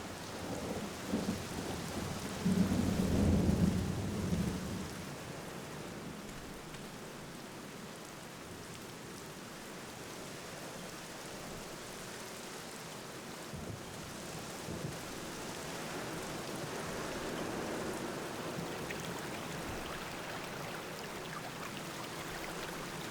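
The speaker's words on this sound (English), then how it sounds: "let's head back outside, because, you know, we like to play in the rain" Heavy rain pours steadily outdoors in The Black Mirror video game, with a loud rolling thunderclap early on that fades into a continuous, even wash of rainfall.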